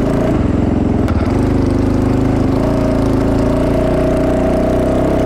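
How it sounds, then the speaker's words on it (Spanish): Fantic 450 Rally motorcycle on a disused dirt track, single-cylinder engine running loud and close with a steady rapid pulse and slight revving, a rattly tone suggesting a loose exhaust manifold. "Me pone francamente nervioso ir con la moto sonando así"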